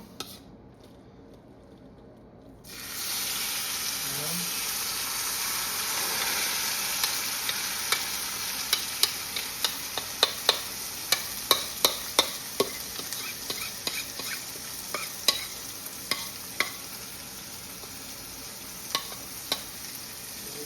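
Seasoned beef liver drops into a hot pan and sizzles steadily, a loud constant hiss that starts suddenly, with intermittent scraping and clinking as it is stirred.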